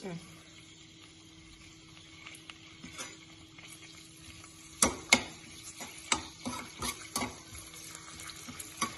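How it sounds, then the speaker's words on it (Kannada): Mint leaves dropped into hot oil for a home-style mutton biryani, a faint sizzle rising into sharper crackles and stirring clatter in the second half, with quiet voices nearby. "ಎಣ್ಣೆ ಬಿಸಿ ಆಗಿದೆ. ಪುದೀನ ಹಾಕ್ತಾ ಇದ್ದೀನಿ"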